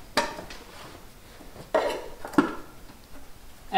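Metal lids clank onto metal cans packed for making biochar, with three or four distinct metallic knocks spaced out against a quiet background.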